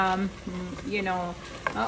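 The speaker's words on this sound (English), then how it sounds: "So we are still going to saute it for some time." Tomato, onion, ginger and garlic masala sizzles as it is sautéed and stirred in a pan, a steady close frying hiss with a voice talking over it.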